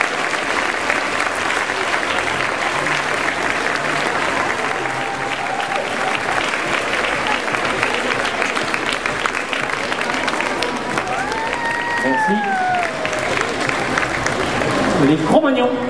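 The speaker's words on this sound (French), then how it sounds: "Donc on va applaudir très fort cette catégorie duo." A crowd at the 2011 SAKADANSE dance competition in Rillieux-la-Pape applauds the duo category in a loud, sustained roar of clapping and cheering. A voice speaks over it partway through.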